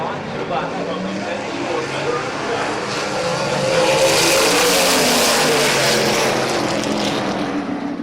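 Race cars roar together around the oval at Midvale Speedway, a continuous loud, dense engine drone that swells as the field comes toward the green flag, with a commentator talking over it.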